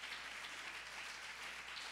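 Church congregation at a sermon applauds, a steady, even patter of many hands clapping that runs unbroken for the whole moment, fairly soft and with no voices over it.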